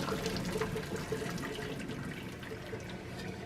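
Water runs and splashes steadily as a pot of thick-cut potato fries is drained into a sink, a continuous close pouring wash with no talk.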